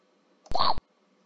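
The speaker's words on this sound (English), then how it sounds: "chomp is for when the anglerfish eats the fish" Scratch's built-in chomp sound effect, used for an anglerfish eating a fish in a game, heard as a single short, loud bite lasting about a quarter second against near silence.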